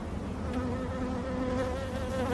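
Honeybees buzz steadily at close range during a hive inspection in Jamaica, a dense droning hum with wavering pitch from many bees at once.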